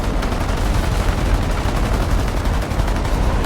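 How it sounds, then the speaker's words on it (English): Machine guns aboard a B-17 bomber fire frantically at enemy fighters, a loud, dense stream of rapid shots and crackling bursts over a constant roaring drone, filling the whole stretch without pause. "The B-17 gunners fire frantically at where they saw the tracers."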